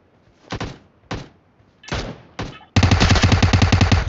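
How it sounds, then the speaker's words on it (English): PUBG video game gunfire: four separate single shots spaced apart, followed by a sustained rapid automatic burst, loud and close, with no talking. "Another one is shooting."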